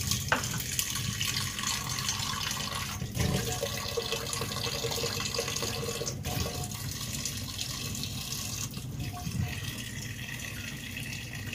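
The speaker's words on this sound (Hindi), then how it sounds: "एक पानी से और वॉश कर लेंगे इसको।" Steady running water splashes from a tap into a sink as mangoes are washed, with faint handling noises mixed in, continuous and fairly quiet throughout.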